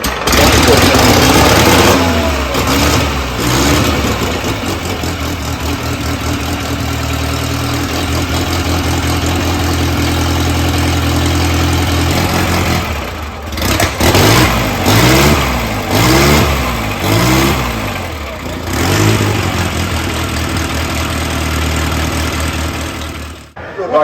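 An antique motorcycle, a vintage British machine of the Rudge era, fires up and revs hard, its loud engine surging and falling through repeated throttle blips and a rough idle, close by throughout.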